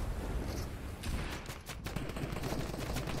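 Rapid, fairly muffled gunfire in Fortnite, a steady stream of overlapping shots over about three seconds at moderate loudness.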